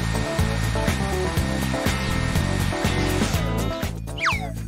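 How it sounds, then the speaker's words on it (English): A hair dryer blows in a steady, loud whir, holding an even tone before shifting briefly near the end, heard close up with no talking. "Let's dry the hair properly with this."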